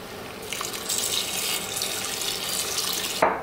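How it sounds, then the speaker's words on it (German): Water runs steadily from a tap into a cooking pot of lentils, splashing with a bright rushing hiss that continues for a few seconds before cutting off. "füllen mit Wasser auf."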